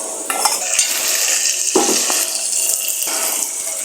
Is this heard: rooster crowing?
no